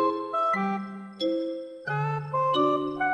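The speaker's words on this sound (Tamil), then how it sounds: "யாரோ காலிங் பெல் அழுத்துறாங்க பாருங்க" A doorbell chimes in a cartoon with a clear multi-note ding-dong melody, ringing several times in close succession, bright and tonal with no voices.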